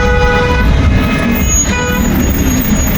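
Congested road traffic at the Maha Kumbh Mela in 2025, steady loud engine and truck rumble with several overlapping horns honking continuously nearby.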